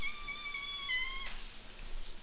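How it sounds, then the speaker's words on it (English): A cat gives one sustained, tonal, high-pitched meow-like scream, loud and clear for about a second, followed by faint room noise and no talking. "Guys hear my cat screaming?"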